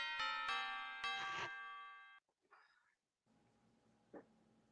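A doorbell rung over and over, loud chiming ding-dong tones in quick succession at the start, then a pause and quieter room sound with one faint later chime.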